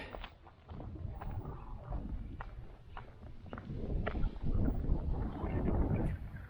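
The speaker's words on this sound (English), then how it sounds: "there's a little bit of wind up today, but it'll get worse later" Wind gusts across a lake shore, a low rumbling buffet on the microphone that swells and fades, with a few faint thuds like footsteps, and no voices.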